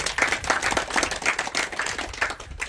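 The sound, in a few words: devotees clapping loudly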